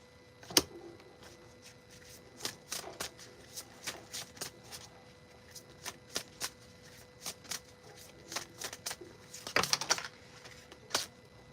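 Tarot cards are shuffled by hand in a run of quick, crisp riffling bursts at close range, irregularly spaced with a denser flurry near the end and no talk over them.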